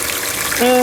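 Water driven by a pump runs through a home gold sluice with a steady close trickling rush. A tone rises and holds near the end.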